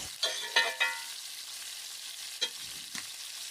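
Masala spices with turmeric sizzle in hot oil for a chicken curry, with a few sharp scraping stirs over a continuous crackling fry.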